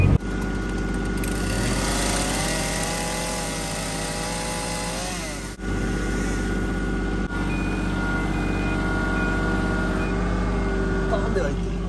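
A bulldozer's diesel engine roars steadily while pushing large logs and building up an embankment, a loud continuous drone with a brief dip midway and someone talking over it.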